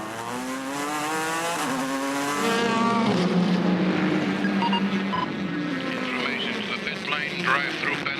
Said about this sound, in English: for having the engine running during the refueling